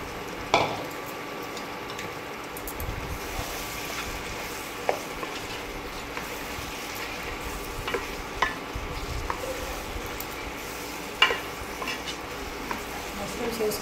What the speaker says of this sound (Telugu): శుభ్రపరచుకున్న మష్రూమ్స్కి దీంట్లో వేసేసుకుందాం